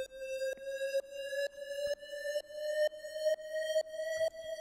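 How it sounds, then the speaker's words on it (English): A standard EDM riser effect made in FL Studio: a bright synth tone slowly climbs in pitch, pumping in a regular rhythm from sidechain ducking, heard alone. "It's like a standard EDM riser, which I made."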